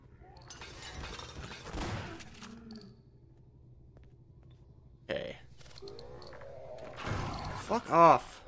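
Automated turrets firing in Half-Life 2: Episode One, with short bursts of gunfire and sharp mechanical impacts spread through the clip alongside in-game noise and other effects.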